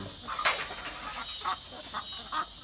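Soft, scattered clucks from chickens nearby, a few short calls standing out over a steady hiss of background noise.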